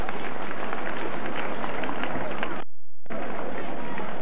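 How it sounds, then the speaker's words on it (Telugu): Loud, steady applause from a crowd cheering leaders on stage at an Olympic Run Day sports event, broken by a short silence before resuming. "వారందరికి దగ్గరగా చప్పట్లు కొట్టండి"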